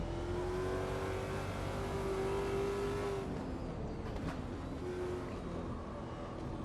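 A Shelby GT500 race car engine in Automobilista 2 drones at a steady high pitch through a sustained run, then its note drops and fades into rougher rumble, loud and continuous.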